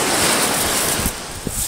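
Ocean water washes up onto a seashell beach at Playa Conchal, a loud, close rush of surf mixed with wind buffeting that eases off after about a second.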